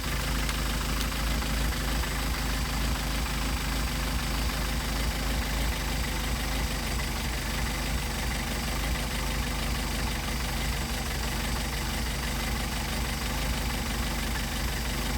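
A Mercedes 190SL engine with Solex carburetors idles while warming up, a steady, even rumble close by that runs unbroken the whole time.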